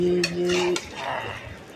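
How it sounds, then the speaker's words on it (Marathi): A metal spatula scrapes and clinks against a pan while an omelette is flipped, giving a few close, brisk knocks and scrapes over a brief low hum, then quieter rustling. "आता पलटी करून घेतो थोडं उलटणीने."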